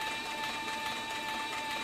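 A saddle and harness sewing machine stitching leather skirts, giving a steady, close mechanical whir with a constant tonal hum and no breaks.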